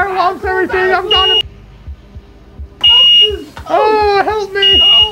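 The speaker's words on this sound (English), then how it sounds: "You started a fire alarm, everything." A fire alarm goes off in a horror mini-series scene, with a shrill tone cutting through loud, strained shouting voices before and after a short quiet gap.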